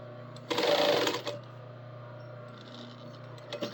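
A sewing machine stitches fabric in one short, fast burst of about a second, loud and close, then falls quiet to a low hum with a few faint mechanical clicks near the end.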